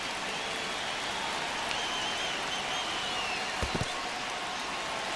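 A crowd in a baseball stadium in an MLB video game, a steady wash of cheering and clapping throughout with a few sharper claps near the end.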